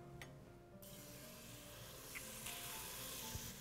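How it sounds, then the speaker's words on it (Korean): A soft, steady sizzling hiss of udon ingredients stir-frying in chili oil in a Fissler pot, with faint scraping and rubbing from stirring, a couple of light clinks near the end. "재료들을 볶아주도록 하겠습니다."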